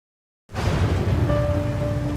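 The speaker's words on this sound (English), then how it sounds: "It's raining again in China." Rain falls steadily in China after a sudden start, a dense continuous hiss with a low rumble beneath it and a faint tone running through the latter part.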